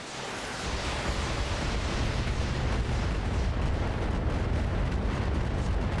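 Weapons fire in the RogueTech mod of the BattleTech video game, a dense, loud rumbling barrage of blasts and explosions that sustains without a break, no voices over it.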